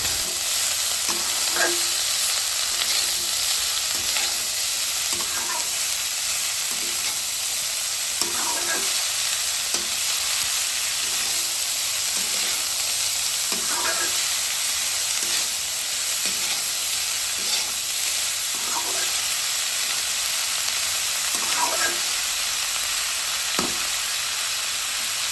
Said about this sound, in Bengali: এখন নেড়েচেড়ে পাতাকপিগুলো ভালোভাবে মশলার সাথে মিশিয়ে নিতে হবে।